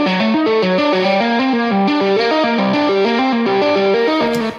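Electric guitar through an amp simulator plug-in with no delay, playing a quick repeating arpeggiated line of clean-to-mildly-driven notes, steady and close, with no talking.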